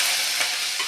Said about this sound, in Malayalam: ഇത് എണ്ണക്കകത്ത് ഒരു 2-3 മിനിറ്റ് വഴറ്റുക